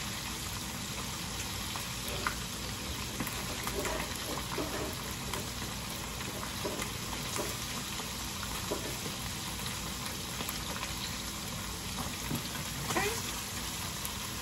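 Steady hiss and crackle of fish frying in hot oil for Jamaican brown stew fish, continuous and close, with occasional faint pops and scraping.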